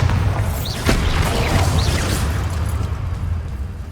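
A Bombarda explosive spell going off in Hogwarts Legacy, a loud, close, low rumbling boom that rolls on with crackling debris and fades slowly, with little else over it.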